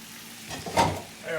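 Potatoes fry in a pan, a soft, low sizzle that swells briefly into a louder burst of crackling before settling back to a quiet hiss.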